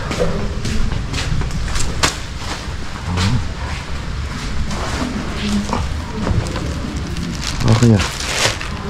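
Rain falls steadily on surfaces outdoors, a dense continuous patter with sharper drops and crackles throughout, fairly loud and close, with occasional voices underneath.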